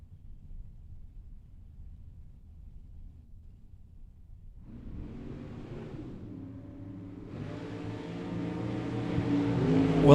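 A 2010 Chevrolet Corvette at a Las Vegas bracket drag race idles low, then launches and revs hard, the engine roar climbing steadily in pitch and loudness to the end.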